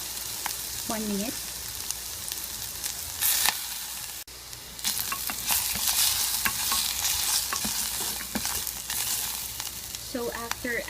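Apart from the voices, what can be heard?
pork and sundubu jjigae ingredients stirred and frying in pot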